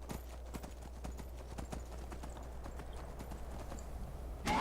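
A horse's hooves clip-clop in a steady rhythm while riding in the video game Skyrim, each hoofbeat distinct and moderately loud against a low constant background hum.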